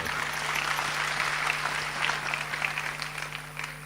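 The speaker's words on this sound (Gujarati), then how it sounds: "કીર્તિભાઈને એકવાર તાળીઓથી વધાવો સાહેબ." An audience at a live Gujarati comedy stage show claps together for a performer, giving a steady, dense spread of applause that holds at even loudness for the whole stretch, with no speech over it.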